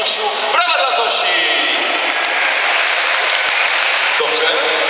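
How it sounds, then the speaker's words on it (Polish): Applause for a young girl named Zosia at a children's event, a steady burst of clapping from a group that continues evenly throughout, with voices heard over it briefly. "Brawa dla Zosi!"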